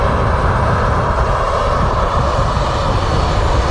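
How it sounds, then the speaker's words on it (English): The loud jet engines of a Ryanair Boeing 737-800 at Manchester Airport roar steadily and close by as a continuous, dense rumble with no voices. "Nice loud engines there from the Ryanairs 737-800 from Berlin."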